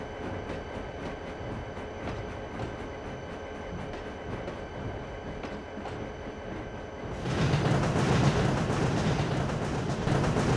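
A video-game steam train rumbles along steadily with a rhythmic mechanical chug, then the sound swells into a louder, rushing roar for the last few seconds.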